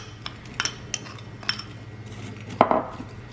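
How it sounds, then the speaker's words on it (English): Apple slices tossed with brown sugar in a dish: a few light clinks of a utensil against the dish, then one sharper knock near the end, close and fairly quiet with a low hum behind. "Next, we'll put the apple slices into a dish, and then mix well with the brown sugar."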